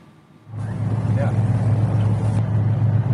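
The engine of the Indonesian patrol ship Macan 04 starts up after a quiet moment and settles into a loud, steady low rumble with broadband wash.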